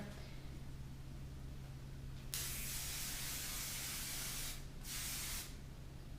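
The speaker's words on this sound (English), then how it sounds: "We're going to spray it with a volumizing hairspray, not a real hard as a rock hairspray." Volumizing hairspray hisses in a steady burst onto hair, starts abruptly, pauses briefly and then resumes over a faint background hum.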